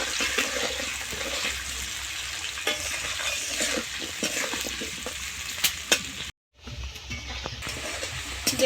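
Potato pieces fry in hot oil seasoned with salt and turmeric, giving a steady, close, dense sizzle with occasional crackles and stirring clinks, with a brief drop-out near the end.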